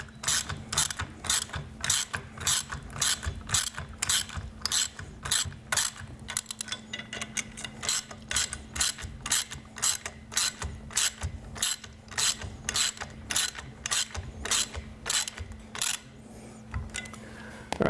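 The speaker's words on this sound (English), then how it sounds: "use your 9/16 ratchet to tighten those down" A 9/16 ratchet tightens bolts in a shop, giving a long series of crisp, rhythmic clicking strokes, some faster and some slower, close and clear over a faint steady hum.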